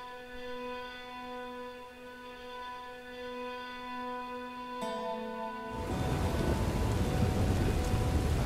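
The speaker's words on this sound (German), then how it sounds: "Geil, im Regen." Rain in the open-world western game Red Dead Redemption 2 sweeps in as a loud, dense hiss of downpour, following a stretch of sustained in-game music that cuts out just before.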